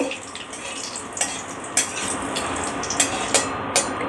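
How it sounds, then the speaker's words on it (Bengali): Whole cumin, cardamom, cloves, cinnamon and torn bay leaf sizzle in hot oil for tempering while a spoon stirs them, giving a soft frying hiss broken by several sharp scraping clinks against the pan. "এটা আমি ফোড়ন দেবো, একটু নেড়ে নেব।"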